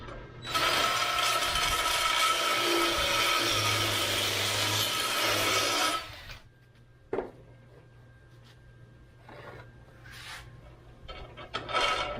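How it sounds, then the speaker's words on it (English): A power drill grinds steadily through metal on a farm gate for about six seconds with a harsh, broadband whir, then stops, leaving quiet clicks and small taps. "I'm going to run the drill through this and clean it up"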